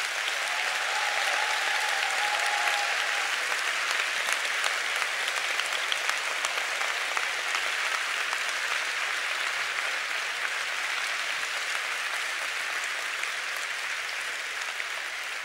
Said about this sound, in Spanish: Para ellos, por favor, un fuerte aplauso.